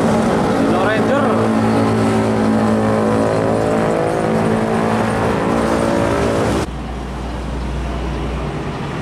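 An old Hino Ranger truck's diesel engine holds a steady, loud, close droning hum with strong harmonics, then shifts abruptly to a lower, rougher rumble near the end.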